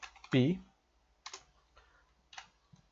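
Someone types code on a computer keyboard in a few short bursts of close, soft key clicks with pauses between them, with a brief voice sound near the start.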